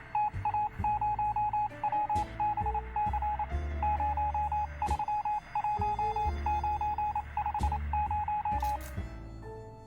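Morse code beeping over a radio in the video game 60 Seconds!, rapid rhythmic bursts of short and long tones repeating in clear groups, loud and close, with no voices.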